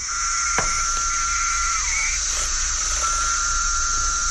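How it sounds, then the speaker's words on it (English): Periodical cicadas in a huge emerging brood along the US East Coast make a steady, dense droning chorus with a constant high whine, heard alone and continuous throughout. "And then there are the cicadas."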